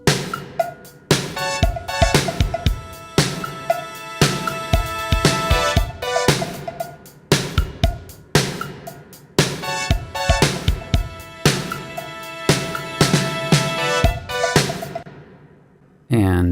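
Layered keyboard synth chords swell and fade in a steady pulse, with punchy drums and other instruments in a full band mix.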